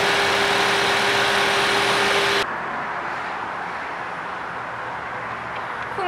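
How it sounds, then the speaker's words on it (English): A Ford Fusion's 2-liter four-cylinder engine hums steadily, louder for the first couple of seconds with a constant low drone, then settling into a quieter, even idle. "underneath the hood, there's an I-4 2-liter engine"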